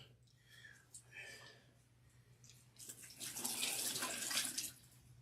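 Warm water pours from a portable sink in a hair wash setup, swelling into a steady close splashing stream after quiet low hum and some soft murmured talk.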